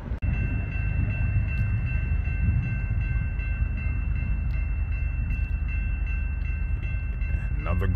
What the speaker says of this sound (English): here is this train on the inner track